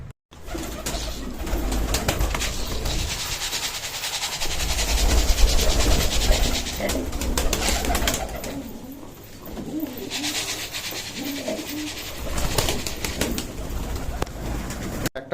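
Pigeons coo repeatedly at close range while being fed wheat, their soft throaty calls rising and falling over a steady rumbling background.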